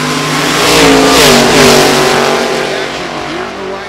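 Hot rod drag racing at a reunion event, a Model T Ford roadster and a dragster with a small-block Ford engine: a loud close engine roaring and revving upward as it accelerates hard, then tapering off.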